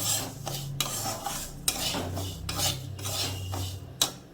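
A utensil scrapes and stirs rice around a pan for vegetable khichdi, giving repeated rasping strokes with metallic clinks at an uneven rhythm, close and clear with no talking.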